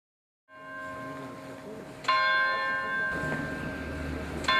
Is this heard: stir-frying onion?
no